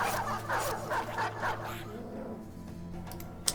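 Dogs whimpering and yipping in a video game, a quick run of short, close whines and yelps in the first half that trails off into quieter background.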